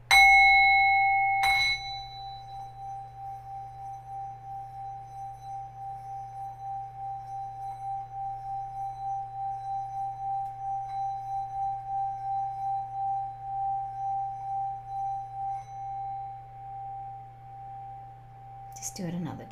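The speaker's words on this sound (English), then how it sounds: "I'll do the sound bowl and then we'll bring in a light language transmission" A sound bowl struck once, then a second sharp strike shortly after, leaving a long pure ringing tone that pulses gently as it sustains for many seconds before a brief clatter at the end.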